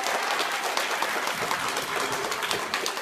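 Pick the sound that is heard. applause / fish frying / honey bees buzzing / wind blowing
applause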